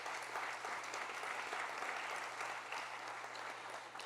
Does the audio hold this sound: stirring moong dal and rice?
no